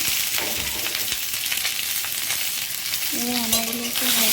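Hog plums hit hot oil with mustard seeds and dried chilli, sizzling loudly up close while a spoon scrapes and stirs through the pan.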